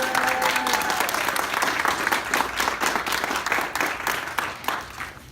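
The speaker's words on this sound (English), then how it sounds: "Let's get a round of applause for everybody that came out here today" A crowd of visiting local activists claps for several seconds at a congressional office visit, close and steady, after a brief voice at the start.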